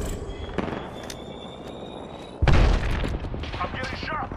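Gunfire in Apex Legends hits the player, a sudden loud burst of shots with a sharp impact, followed by rapid crackling fire and rattling close by.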